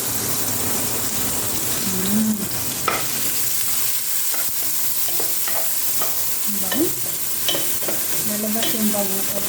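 Chopped onion frying in hot oil in a pan while being stirred, a steady loud sizzle with occasional scraping strokes of the utensil, close up, with a faint voice.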